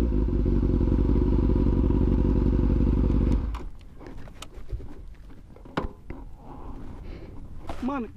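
A motorcycle engine roars loudly and steadily for a few seconds, then cuts down to a quieter idle with scattered clatter and voices in the background.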